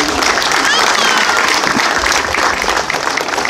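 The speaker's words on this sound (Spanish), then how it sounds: "Un fuerte aplauso por favor para ella." At a park and street inauguration, the crowd gives an honoree loud, sustained applause, with voices mixed in under the clapping.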